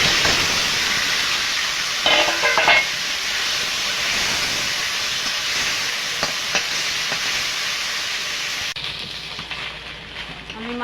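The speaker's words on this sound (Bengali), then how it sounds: "বাকি মাছগুলো ভেজে নেব।" Maya fish crackles and hisses as it fries in hot oil, a continuous sizzle with a few sharper sputters and utensil knocks. The sizzle drops away near the end.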